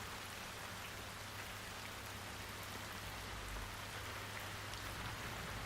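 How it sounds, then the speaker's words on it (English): Rain falls steadily outside as a dense, even hiss with no breaks, faint and continuous across the whole stretch. "It's raining outside."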